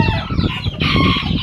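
Red rooster at a gamecock breeding yard, clucking and crowing loudly and close by, with dense overlapping calls filling the whole short stretch.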